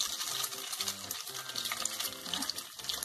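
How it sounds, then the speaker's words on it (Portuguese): Christmas rabanada slices frying in hot oil, a close, continuous crackling sizzle with bubbling texture, fairly soft and steady throughout. "Vamos fritá-los até ficar bem douradinho"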